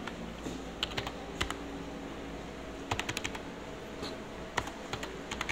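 Java code being typed on a computer keyboard during a programming session: quick bursts of light key clicks and the occasional sharper keystroke, separated by short pauses over a steady faint fan hum.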